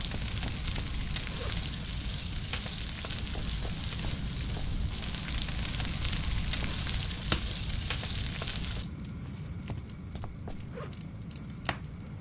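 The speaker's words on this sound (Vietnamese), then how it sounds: "chúng ta đợi coi nó nấu con cua này thì sao đây" A crab sizzles and crackles over a campfire in the survival game Stranded Deep, a dense steady frying hiss that drops abruptly to a quieter crackle near the end, with no talking.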